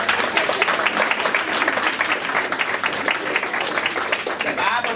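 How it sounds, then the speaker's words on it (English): Crowd at a youth organization gathering bursts into sustained, fairly loud applause, a thick even patter of many hands with voices mixed in throughout. "Everybody should clap."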